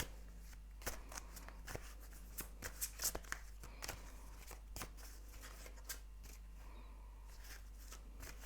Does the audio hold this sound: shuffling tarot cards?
yes